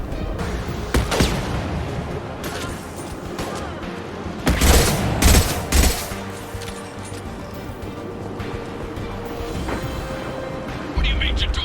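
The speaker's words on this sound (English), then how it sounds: "Firing concussive shot." Concussive shot and gunfire in the video game Mass Effect 2, with booming blasts and rattling shots, a heavy cluster of impacts in the middle, playing under game voices.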